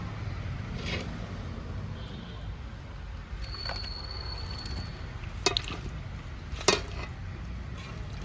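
Fish and vegetables for fish aviyal stirred in a pot, with soft scraping and a few sharp clinks of a spoon against the pot over a low steady background.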